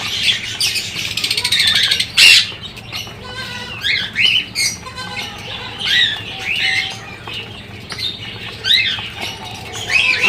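Large pigeons gather to eat wheat and chickpea porridge, with wings flapping and sharp chirps and squawks scattered through the clip over a steady low hum, while a person talks nearby.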